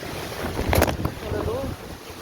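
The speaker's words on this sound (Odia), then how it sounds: "ଏତେ ଜୋରସେ ପବନ ମୋ ହାତରୁ ଫୋନ୍ ପଳେଇଲା" Strong Kalbaisakhi storm wind buffets the phone microphone outdoors, producing a loud rushing roar with gusty swells and a few brief bursts of noise, while a voice is faintly heard in the background.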